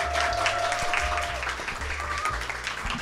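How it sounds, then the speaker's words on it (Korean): An audience applauds warmly to welcome a physicist guest onto a stage, a full burst of clapping with a faint voice and low tones underneath, easing slightly toward the end. "물리학자 김범중 교수님을 뜨거운 박수로 환영해주세요"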